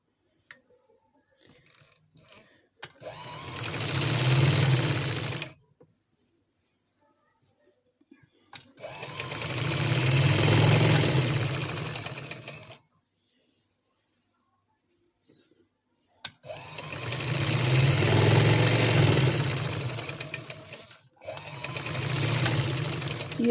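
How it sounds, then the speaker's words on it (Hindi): A sewing machine stitches a pressed, folded seam on a shirt made from an old dupatta, running in four separate close bursts of a few seconds each with quiet pauses between. "अब ये हमने इस तरह से प्रेस कर लिया, इसको हम जो फोल्ड कर लिए और ये हम लगाएंगे इस पर सिलाई।"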